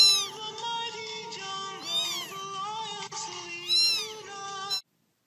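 A cat meows loudly several times in a row, with long, rising and falling cries, close and clear with no talking, then cuts off abruptly.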